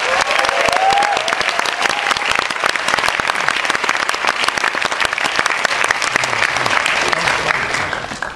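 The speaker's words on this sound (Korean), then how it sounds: "그분께 다시 한번 영광의 박수 올려드립니다." Loud, dense applause fills a church concert hall after a singer's performance, steady clapping throughout with faint crowd murmur beneath.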